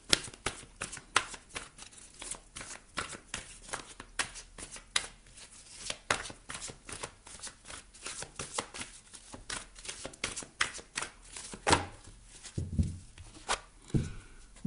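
Tarot cards being shuffled by hand in a reading, a dense run of quick crisp riffling slaps and flicks close up, steady for the whole stretch with a few heavier taps near the end.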